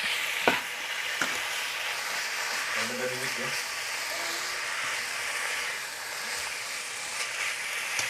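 Food stir-fried in a pan for Vietnamese bò bún gives a soft, constant sizzle with a few sharp clacks of the utensil, while a voice talks briefly underneath.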